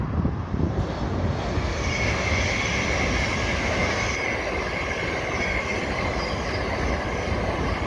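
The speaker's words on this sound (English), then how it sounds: "oh, another train coming, I can't do my speech." A train roars past close by on a main line at a station, steady rumbling of wheels on rails with a high metallic squeal throughout, loud and continuous.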